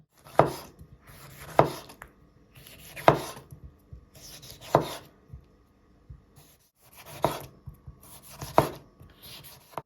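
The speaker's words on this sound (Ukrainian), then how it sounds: "Беремо два помідора, нарізаємо колечками." A knife slices two tomatoes into rings on a board, about seven crisp chopping strokes spaced roughly a second or more apart, close and clear with short quiet gaps between them.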